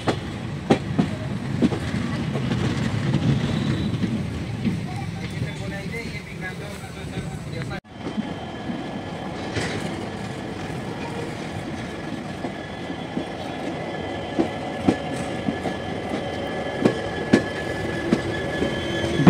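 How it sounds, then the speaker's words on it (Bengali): A passenger train pulls out of Tinsukia Junction in the afternoon, bound for New Tinsukia Junction, with steady rumbling wheels and rail clatter, a brief dropout midway, then continuous rolling noise with occasional sharp clicks, under intermittent voices. "বিকাল 4:47 ট্রেন তিনসুকিয়া জংশন ছেড়ে তার পরবর্তী গন্তব্য নিউ তিনসুকিয়া জংশন রেলওয়ে স্টেশনের উদ্দেশ্যে রওনা হলো"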